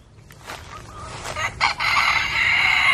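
Roosters fight through a fence, then one crows loudly and close, the long cock-a-doodle call rising after a few scuffling clucks and wing flutters.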